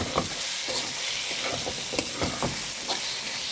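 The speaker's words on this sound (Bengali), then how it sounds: "এটাকে দিয়ে আমরা ভালো করে নাড়াচাড়া করবো" Food being stirred as it fries in a pan, a steady sizzle broken by repeated scraping and clacking strokes of a spoon, close and fairly loud, with no voices.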